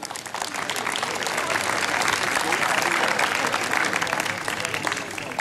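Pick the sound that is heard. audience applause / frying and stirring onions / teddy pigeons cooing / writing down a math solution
audience applause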